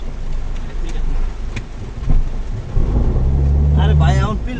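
Heavy rain pours steadily in a park, with low rumbling like thunder or a passing vehicle; someone talks briefly near the end.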